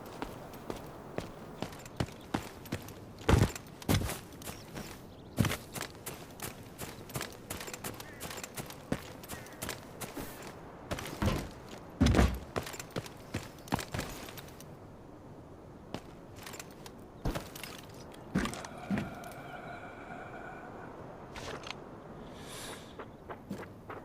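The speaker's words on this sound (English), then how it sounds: "you hear the metal footsteps" Metallic footsteps from the Vyron M250 character in a video game clank at an irregular pace, some loud and close, others softer. They come and go over a faint background hum, with a few tonal game cues near the end.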